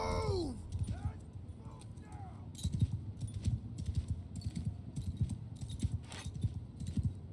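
Hooves of a horse clip-clop in a video game, a quick irregular run of clattering steps mixed with game sounds and someone talking over them.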